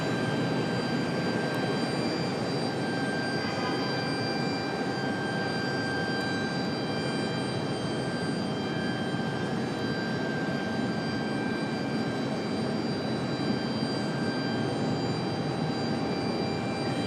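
American Airlines Airbus A319 jet at Raleigh Durham airport, a steady, continuous engine roar with a sustained whine, distant and unbroken throughout with no voices.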